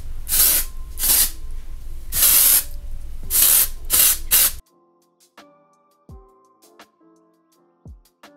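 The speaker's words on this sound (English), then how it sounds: "Let's just spray some of this Orbe dry texturizing spray and just kind of shake it" Orbe dry texturizing spray is sprayed onto hair in several short, close hissing bursts of varying length. A few quiet clicks and light handling sounds follow once the spraying stops.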